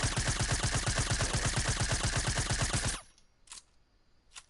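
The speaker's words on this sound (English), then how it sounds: "No, Rudy, why are you shooting?" Automatic gunfire in Fortnite rattles out as a fast, loud burst of evenly spaced shots lasting about three seconds, then stops abruptly, leaving a quiet background with a couple of faint sharp clicks.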